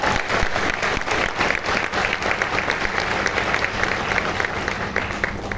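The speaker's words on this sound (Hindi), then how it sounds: "एक बार जोरदार तालियां चाहिए हमारे ग्रेट अप्लायंस सिद्धांत सिंह सर के लिए" Loud, sustained applause from an audience at a Vestige team gathering, many hands clapping in a steady, continuous wash with sharp individual claps standing out throughout.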